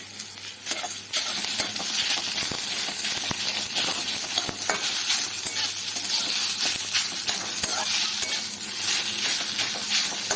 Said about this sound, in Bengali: ভালো করে আলুগুলো পেঁয়াজ রসুনের সাথে মিশিয়ে দেব।